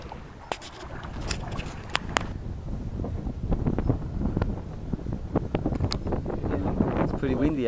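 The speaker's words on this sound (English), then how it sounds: "Pretty windy out there." Strong wind buffeting the microphone while kitesurfing at sea off Kalpitiya, a rough, gusty low roar with occasional sharp knocks and rattles, continuous throughout.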